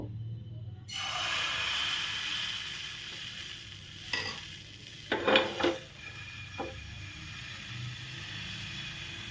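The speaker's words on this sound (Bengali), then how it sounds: "অল্প করে করে এক হাতা করে করে এর মধ্যে ব্যাটারটা দিয়ে দেব।" Batter ladled into a greased pan sizzles with a low continuous frying hiss, broken by a few soft scraping and clinking touches of the ladle against the pan, faint and close.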